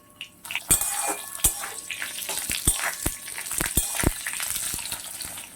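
Raw mango pieces dropped into hot oil already frying fenugreek, fennel and mustard seeds, giving a steady close sizzle broken by sharp spatters and clinks of a utensil against the pan, with no talking.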